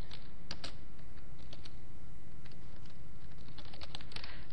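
Typing on a computer keyboard, a brisk run of close key clicks and taps at an uneven rhythm under a steady background hiss, with no speech.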